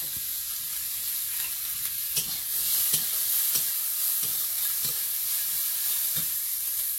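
Chopped onion sizzles steadily in hot oil alongside garlic and black cumin, a continuous bright frying hiss with faint stirring scrapes, close and fairly loud with no voices.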